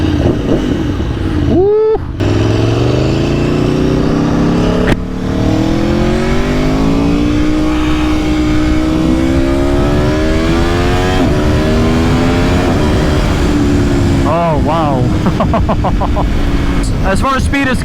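A 2020 Aprilia Tuono V4 RR motorcycle on a road test, its V4 exhaust loud and close as it revs and climbs through the gears in long rising sweeps, with a rider briefly exclaiming over it.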